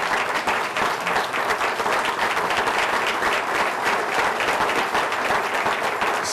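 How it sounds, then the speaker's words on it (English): Warm applause fills a speech hall in Cleveland, a thick, sustained roar of many clapping hands holding steady for over six seconds with no pause. "So I want to ask you to give them a warm round of applause."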